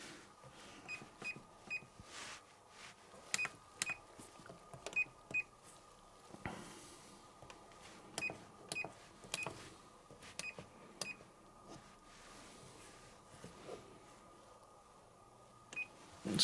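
Short electronic beeps from a fully lit washing machine control panel, sounding singly and in quick pairs at irregular intervals over a low steady hum.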